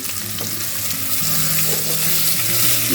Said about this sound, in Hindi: 2-4 मिनट इसको अच्छी तरह से फ्राई करना है